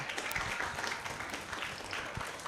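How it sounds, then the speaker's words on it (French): Audience applause for a children's team at a mosque event, a steady patter of clapping from a crowd, moderately faint and continuous for a couple of seconds. "On les applaudit très très fort."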